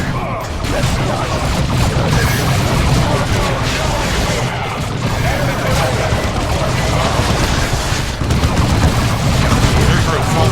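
Gunfire from the Warhammer 40k Dawn of War 2 video game: dense, continuous volleys of shots and booms with crashing impacts, loud and sustained throughout, mixed with battle voices shouting orders.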